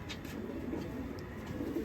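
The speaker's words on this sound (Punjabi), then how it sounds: "ਇਹ ਜੀ ਚੀਨਾ ਕਬੂਤਰ ਆਪਣਾ ਵੱਡਾ ਇਹ ਵੱਡਾ ਚੀਨਾ" Large Cheena pigeons coo softly on a rooftop loft in a village, a low, steady murmur of cooing in a short stretch with no talk.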